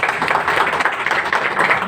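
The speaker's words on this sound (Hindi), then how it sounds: "तो एक जोरदार ताली हो जाए अंकुर सर के लिए" Dense, continuous applause from a crowd, steady and fairly loud throughout with no breaks.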